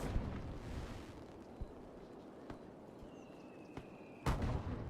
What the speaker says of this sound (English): All right, we have the fireworks going, which are nice.